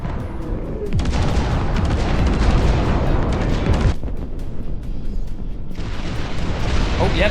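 Rocket artillery fires in the Dust Front RTS game, heavy booming salvos rumbling in long loud bursts with brief gaps between them, with a voice speaking under the noise.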